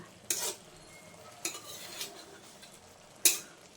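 Small puti fish, caught from a farm field, get turned over in a frying pan, giving three or four sharp clinks and scrapes of a utensil against the pan over a low sizzle. No one speaks.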